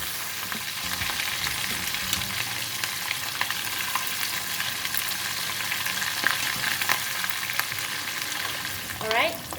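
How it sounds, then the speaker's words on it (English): Stingray pieces deep frying in a wok of hot oil, a dense continuous sizzle and crackle with occasional stirring scrapes, steady and close. "We don't want to fry too long, or else the fish is going to be too dry."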